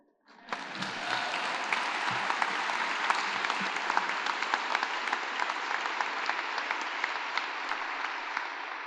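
Applause from the audience at the 27th Annual Virginia Literary Awards swells quickly after a brief quiet moment, then holds as a steady wash of clapping from many hands to the end.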